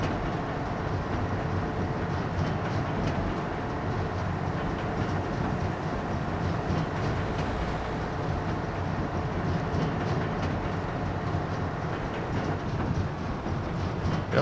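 A train passing through farmland in the video game Farming Simulator 25, rumbling steadily and evenly throughout with continuous rolling wheel noise and faint clatter, heard alone without talk.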